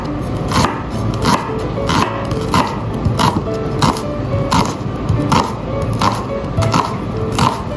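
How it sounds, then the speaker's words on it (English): Peeling and shredding an onion for spicy stir-fried noodles, a loud, close series of rhythmic knife chops on a cutting board, roughly twice per second, with no talk. "Peel and shredded onion."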